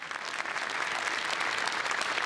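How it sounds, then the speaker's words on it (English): An audience at a startup awards ceremony claps for the event's sponsors, a dense, sustained burst of applause from a large crowd filling the room, steady and fairly loud. "So you can clap your hands after I say the partner."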